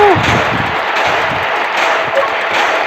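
Rapid gunfire from weapons in the Solar Smash space destruction game, a dense continuous rattle of shots filling the clip at steady loudness, with a couple of faint whistling tones near the start.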